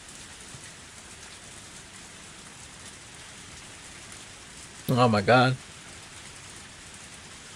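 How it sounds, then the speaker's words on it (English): Pouring rain in the video game Higurashi When They Cry Hou falls in a steady, even hiss from start to finish, while a voice briefly exclaims partway through. "Only the sound of pouring rain filled up with the silence."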